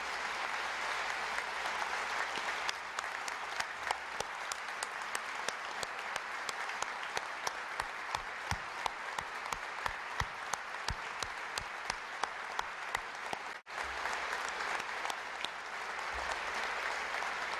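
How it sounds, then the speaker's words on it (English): An audience at a State of the State address applauds at length, a steady wash of many hands clapping with a few loud, sharp claps nearby, holding evenly with a brief dip partway. "if you'd join me in a round of applause for all those wonderful people serving us"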